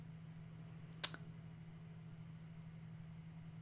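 A single short computer mouse click over a steady low electrical hum, with no talking.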